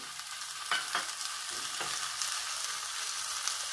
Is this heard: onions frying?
yes